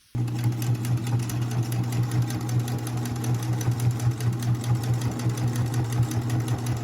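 A sewing machine runs continuously, top stitching around the edge of a fabric notebook cover, with a steady close mechanical hum and rapid needle chatter and no talking.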